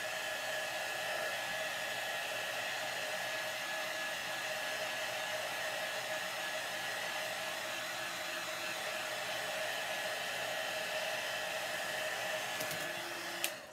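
A hair dryer blows steadily at close range drying craft material, a constant airy whoosh with a motor hum, running alone and unbroken until a brief click near the end.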